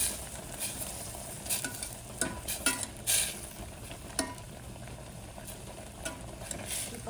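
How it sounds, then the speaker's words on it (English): Palak (spinach) cooks in a pot for dal, making a quiet, soft bubbling hiss with scattered light clinks and pops throughout. "The palak seems to be boiling."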